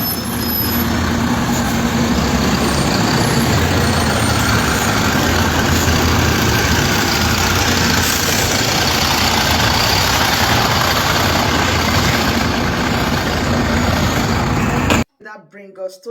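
A heavy engine idles continuously at a bus stop, a loud, dense rumble with wind-like noise throughout, cutting off abruptly near the end where brief voices follow.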